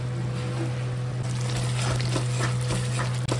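Masala spices for mushrooms being sautéed in a pan give a steady close sizzle with rhythmic stirring scrapes, loud and continuous over a low constant hum.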